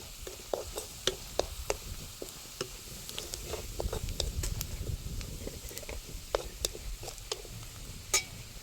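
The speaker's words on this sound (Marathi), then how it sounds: "हे खोबरं घेतलेलं आहे मी किसून हे खोबरं टाकायचं आणि हे असं छान मिक्स करून घ्यायचे" Grated coconut being stirred into a banana flower dish with garlic in a pan, with a soft continuous sizzle broken by repeated light scraping and tapping of the spoon, close and fairly quiet, with no talking.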